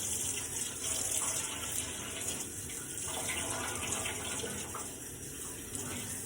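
Tap water runs steadily into a sink while dyed fabric is rinsed under it, a continuous close gush and splash with no talking.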